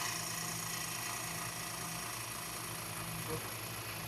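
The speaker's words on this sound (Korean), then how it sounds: "정상적인 엔진 기동 소리가 납니다" A Kia K7 Premier car engine idles at a steady, low hum with a faint continuous mechanical drone and no knocks or rattles.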